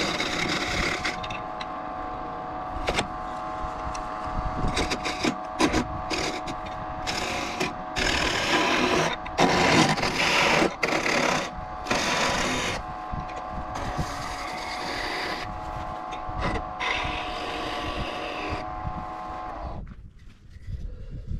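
A brass workpiece spins on a lathe while a skew chisel cuts it, producing a loud, continuous rough scraping and chattering whine over a steady motor drone that drops away near the end.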